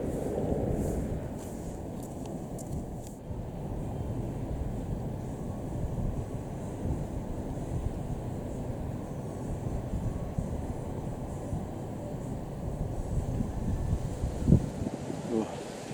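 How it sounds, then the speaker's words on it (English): Chilly outdoor wind rushes steadily against the microphone as a low, continuous roar, with faint voices briefly heard at the start. "you can probably hear that wind, and it's pretty chilly"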